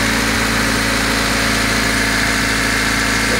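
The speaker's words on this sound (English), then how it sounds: "the engine does run, and it's running well." A brand new engine in a Honda Del Sol idles steadily and close by, a continuous mid-pitched hum with faint vibration and no talking.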